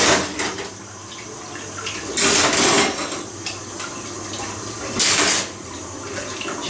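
Spoons from cups of green tea being washed under a running kitchen tap, water hissing steadily and swelling into two louder gushing bursts as items pass under the stream, close and with no talk.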